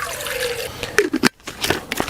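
Water poured into a Jetboil cooking cup, a short trickling and gurgling fill with a few sharp knocks and splashes, close up.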